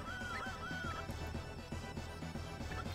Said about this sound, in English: There's that Rooster Crow again.